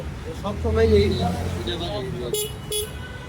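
A horn fitted to a homemade electric bike sounds a tonal, musical toot of a little under two seconds, followed by two short, harsh bursts close by, with traffic noise in the background.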